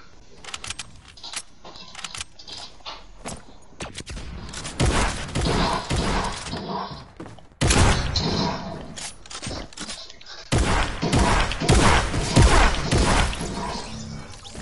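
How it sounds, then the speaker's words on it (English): Boom ball explosions in a video game burst out in a few loud crashing blasts with rattling debris, separated by brief quieter gaps of clicks and clatter. "You're using a boom ball, that isn't fair."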